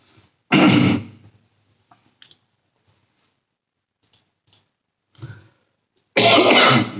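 A man coughs in two loud, harsh bursts, one near the start and another near the end, with a few small throat sounds and a quiet lone cough in between, close to the microphone with no speech.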